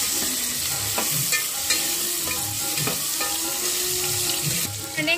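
Tempering sizzles steadily in a hot pan, with ginger-garlic paste and salt among the ingredients, as a spoon stirs through it with scraping clinks and occasional taps against the pan's side.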